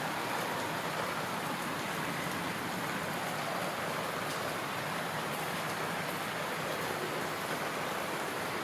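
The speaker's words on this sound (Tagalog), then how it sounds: "Pero umuulan ngayon, ayan oh," Heavy rain falling outdoors in the evening, a constant, even wash of hissing downpour at moderate distance, unbroken and steady with no talking.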